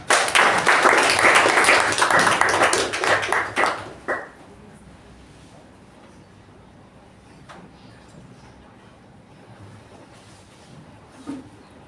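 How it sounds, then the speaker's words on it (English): A burst of enthusiastic clapping from a room of people at a Toastmasters meeting that fades out after about four seconds, leaving quiet room noise. "Please welcome with a thunderous round of applause"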